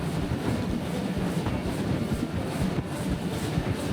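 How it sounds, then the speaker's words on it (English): A vintage train on the Bendigo line near Melbourne's outer suburbs: a steady, loud rumble of rolling stock with rhythmic wheel clatter running throughout, with no voices. "the train steamed north through Melbourne's outer suburbs"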